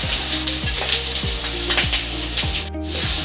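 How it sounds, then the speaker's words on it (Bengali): A paste of onion, green chili, ginger and garlic fries in hot oil in a heated wok, hissing steadily while a spatula scrapes and stirs in a regular rhythm, close and loud with no talk. "তারপর তেল ঢেলে দিচ্ছি পেঁয়াজ বাটা কাঁচামরিচ বাটা আদা বাটা আর রসুন বাটা"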